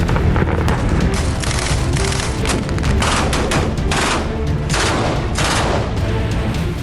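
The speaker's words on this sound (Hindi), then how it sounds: "लेबनान बॉर्डर पर मरकवा टैंक की गर्जना बता रही है कि युद्ध भयंकर होगा" Merkava tank at the Lebanon border, a dense, continuous barrage of loud booms and rapid gunfire-like bursts with a heavy rumbling roar throughout.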